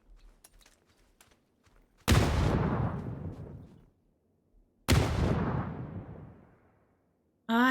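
Two loud grenade blasts go off in a video game, each a sudden heavy boom with a long decaying rumble, spaced about three seconds apart, after faint clicks and taps.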